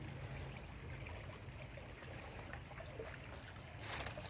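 A creek flows in an outdoor setting with a faint, continuous trickling wash of water, steady and distant, with a slight rise near the end and no talk.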